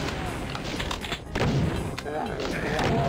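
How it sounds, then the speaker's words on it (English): A barrel explodes in the first-person shooter Voxel Doom 2, amid booming, crackling gunfire-like blasts and thuds in a dense, continuous game mix, with a voice talking over the action. "Kill these guys and look at that barrel. I think the explosion is also 3D."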